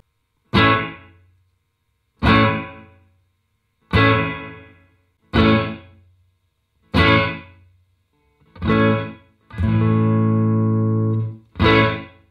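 Electric guitar played through a Yamaha THR amplifier with its room reverb, a series of single strummed chords at steady intervals, then a longer sustained chord, each ending in a short, tight reverberant tail.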